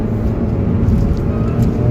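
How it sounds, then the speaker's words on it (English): Engine of a Toyota MR2 with a four-cylinder, a 1991 naturally aspirated or 1999 BEAMS car, holding a steady, dense low drone close by with no talking. "A lot of people say this is the best sounding 4-cylinder engine."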